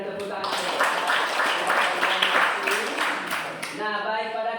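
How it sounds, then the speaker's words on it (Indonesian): Students clapping together in a classroom, a dense burst of handclaps lasting several seconds that stops abruptly, followed by a brief tonal murmur. "Terima kasih, berikan tepuk tangan."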